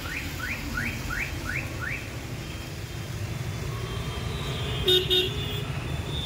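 Steady traffic rumbles on a busy road in Durgapur, with a run of quick rising chirps early on and a short double toot of a car horn near the end.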